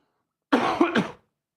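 A single short throat-clearing cough, close and fairly loud, in two or three quick bursts against silence.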